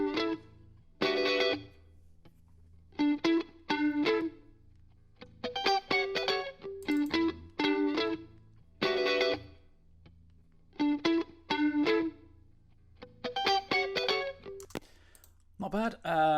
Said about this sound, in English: Basically, it's a Strat kind of sounding guitar.